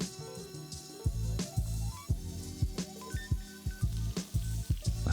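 Pumpkin hits hot oil in a pot over a medium flame, giving a steady sizzle broken by repeated crackling pops and bursts in an uneven rhythm, with no talking.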